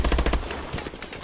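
Rapid automatic gunfire from a competitive shooter video game match at the MLG Columbus 2014 grand final, a tight burst of close, punchy shots followed by softer scattered reports.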